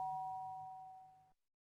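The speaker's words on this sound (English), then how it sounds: "the doorbell rings." A two-tone doorbell chime rings once indoors, clear and fairly loud, its tone decaying over about a second before cutting off into silence.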